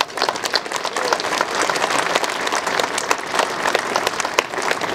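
Audience applause at an event: steady, dense clapping from a crowd filling the room, moderately loud and continuous without talk.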